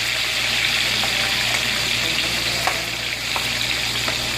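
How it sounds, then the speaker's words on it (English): Chicken feet frying in oil: a loud, dense, continuous sizzle fills the whole stretch, with occasional small crackles and pops, close to the pan and steady, no voices. "You're gonna fry till it's nice and golden"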